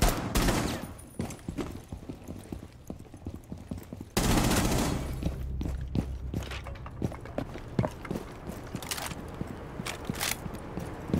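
Rapid gunfire in Rainbow Six Siege: many sharp, crackling shots in quick bursts, close and loud, mixed with footsteps and scuffling movement, and a sudden louder volley partway through.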